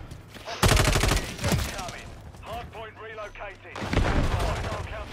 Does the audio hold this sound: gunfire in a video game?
yes